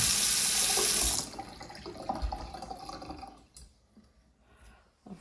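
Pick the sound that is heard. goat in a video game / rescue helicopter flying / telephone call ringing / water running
water running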